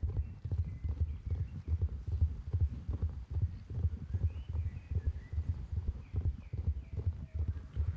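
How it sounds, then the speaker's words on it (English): Horse hooves clip-clop in the Star Stable video game, a steady, even, rhythmic gait with deep thudding beats throughout, loud and close over faint background game sounds. "I love the sound of the horse's hooves in this game."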